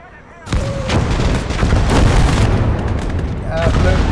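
A satchel charge explodes in a World War II battle video game, a sudden loud blast that rolls into a sustained, rumbling roar of battlefield noise, with a second burst of detonations near the end.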